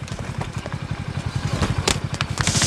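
A motorcycle engine runs with a quick, steady puttering beat, close and moderately loud, with a few clattering knocks over the top.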